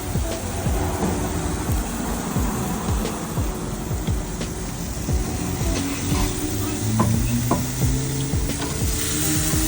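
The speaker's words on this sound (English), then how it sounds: "My ribs over now. They're cooking." Ribs frying in a pan, a steady dense sizzle that runs the whole time with soft scraping and stirring clicks, close and fairly loud, with no talk over it.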